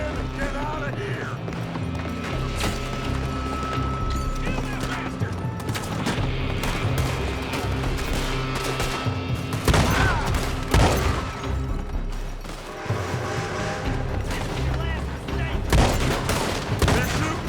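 Gunfire in the Western video game Red Dead Redemption 2, with rapid bursts of shots mixed with hoofbeats and shouting voices during a chaotic shootout near a building.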